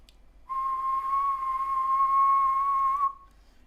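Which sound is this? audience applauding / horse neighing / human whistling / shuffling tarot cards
human whistling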